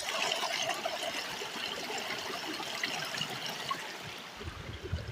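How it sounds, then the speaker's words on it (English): Snowmelt water trickling and running on a mountain trail up to Averill Peak, with ice and snow melting, a faint, steady wash of flowing water heard alone throughout. "as you can hear, lots of water, ice and snow melt happening."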